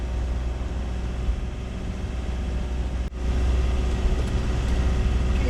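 A sailboat's engine runs steadily in a harbour, a loud, continuous low drone with a brief dip partway through before the rumble resumes at the same level.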